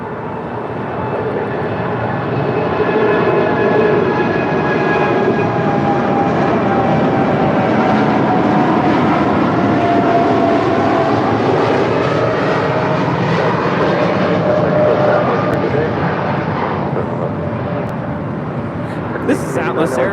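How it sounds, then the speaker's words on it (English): A Boeing 747-8 freighter, Atlas Air, departs on its takeoff run, a loud sustained engine roar with whining tones that swells and holds steady for the whole stretch, with faint radio chatter underneath. "This is Atlas Air Flight 8711 departing to Anchorage on a 747-8 freighter"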